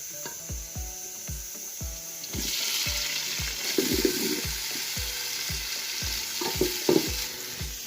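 Onions and tomatoes fry in a pan, a steady hiss and sizzle that swells when the tomatoes go in, with rhythmic wooden spoon taps and scrapes at close range.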